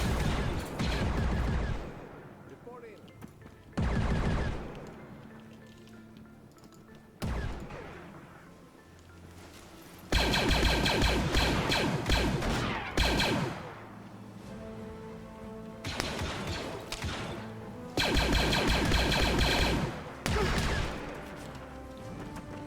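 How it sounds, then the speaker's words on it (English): An auto turret in an open-world Star Wars game fires in long rapid bursts, loud blaster-like rattling that starts and stops repeatedly across the stretch, with short pauses between volleys. "there's the auto turret going off"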